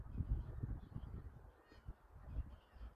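A flock of geese feeding in a field in Sweden gives faint, scattered honks and murmurs at a distance, under a low, uneven background rumble.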